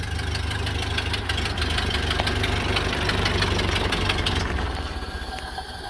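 A 1931 Ford Model A Deluxe Coupe with a four-cylinder flathead engine idles steadily and loudly nearby, a rough, even chugging that eases slightly near the end.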